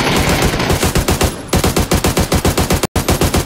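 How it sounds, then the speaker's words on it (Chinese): Rapid automatic gunfire in a first-person shooter video game, loud continuous bursts of shots in quick rhythm, with a brief dropout near the end. "这是谁的枪声？"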